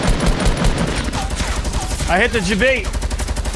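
Rapid gunfire rattles through a Fortnite match in bursts while players talk over it, and the shots continue steadily under the voices.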